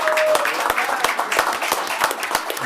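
Audience applause at a municipal council meeting, a steady burst of many hands clapping in a room, fairly close and continuous throughout, with a faint voice at the start.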